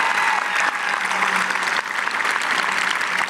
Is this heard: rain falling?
no